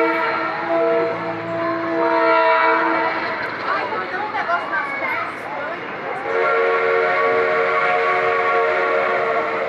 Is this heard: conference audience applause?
no